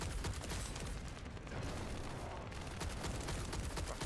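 Dense, continuous rattle of automatic gunfire in the shooter game The First Descendant, loud and unbroken across the whole stretch with no clear gaps between bursts.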